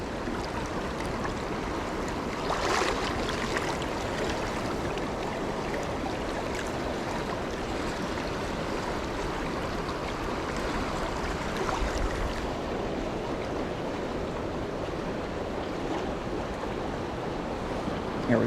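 Rushing, rolling pocket water in a stream during nymph fishing, a constant broad wash of flowing water, close and steady, with no talking.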